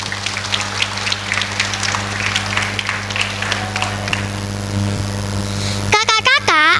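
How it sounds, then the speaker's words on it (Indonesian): Crowd at a Maulid Nabi tabligh akbar gathering claps steadily in a dense, rain-like wash of applause that runs throughout, with a low steady hum beneath and a voice breaking in near the end. "Tepuk tangan untuk kita semua."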